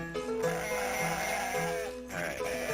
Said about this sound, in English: I got tons and tons of sheep.